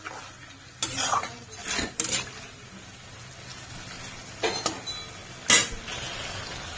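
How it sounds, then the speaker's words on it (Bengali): Scattered clinks and scrapes of a utensil against a pan as chicken is stirred, several short sharp knocks spaced unevenly over a soft background hiss. "এবার আমি এটা ভালো করে নেড়ে নেব।"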